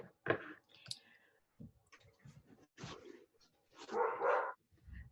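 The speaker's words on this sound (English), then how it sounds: "I'm gonna see if I can just get my dog to quiet down for a second" A dog barks indoors in several irregular bursts, some sharp and some longer and louder, with quiet gaps in between.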